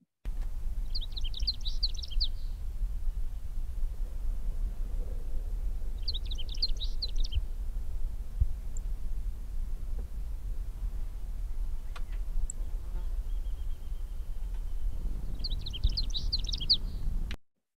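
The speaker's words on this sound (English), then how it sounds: "play this recording of a bell sparrow song" A bell sparrow's song played three times from a recording, a short bright trilling phrase of rapid notes, separated by pauses over a low, steady background hum.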